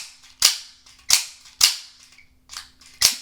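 An automatic knife with a CPM crew steel blade and flat earth finish snaps open and shut again and again, five sharp metallic clicks spaced about half a second apart, loud and close with nothing else around.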